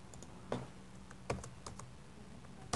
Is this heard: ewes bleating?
no